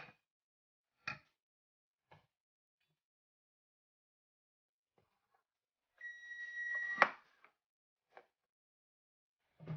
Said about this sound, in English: kitchen timer's not going to give up on us here.